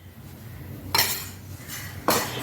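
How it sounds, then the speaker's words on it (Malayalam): A spoon clinks against a bowl while potato skins are mixed with cornflour and rice flour, with two or three sharp scraping strokes over a quiet background. "എന്നിട്ട് ഇതെല്ലാം കൂടി നമുക്ക് നല്ലപോലെ ഒന്ന് മിക്സ് ചെയ്ത് എടുക്കാം"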